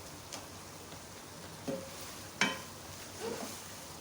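Minced meat (keema) stir-fried in a pan, with a faint steady sizzle and a few sharp spoon scrapes and knocks, close but quiet.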